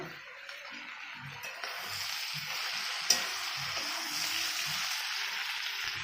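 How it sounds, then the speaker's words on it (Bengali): Fried potatoes and chickpeas stir-fried together in a pan, a steady oily sizzle with soft repeated scrapes of a spoon across the pan bottom, continuous and close. "এবার এতে ভেজে রাখা আলু আর ছোলা একসাথে দিয়ে আবার একটু কষে নেবো।"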